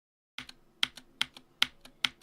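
Keys on a non-hot-swap mechanical keyboard with newly swapped keycaps are pressed one by one for a key test, giving about six crisp, close clicks at an even, unhurried pace.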